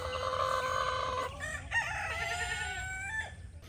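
Chickens clucking and a rooster crowing nearby, with layered bird calls over a steady farmyard background.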